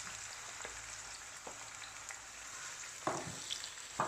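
Onions are dropped into hot oil for Bombay chicken biryani and fry with a constant close sizzle, broken by a few sharp pops and crackles.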